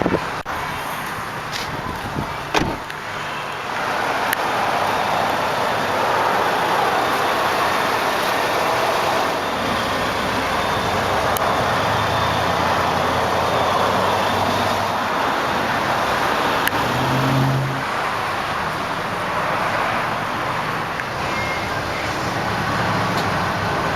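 A 2009 Scion xB with a 2.4-liter, 16-valve four-cylinder engine and variable valve timing runs steadily at idle, a continuous moderate hum with faint ambient noise and a few brief knocks near the start.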